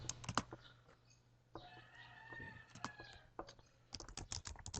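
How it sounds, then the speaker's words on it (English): Keys on a computer keyboard tapped in short irregular bursts as the word reminder is entered, with a steady low hum underneath and brief pauses between clusters of clicks. "let's type reminder"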